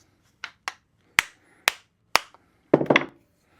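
A hammer strikes metal while a hatchet is forged, about six sharp, ringing blows at an uneven pace, ending in a quick cluster of hits, each clear and close.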